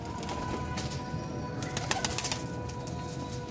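Pigeons kept by a fancier cooing softly amid chirps and faint wing flutters, with steady background hiss and no talking.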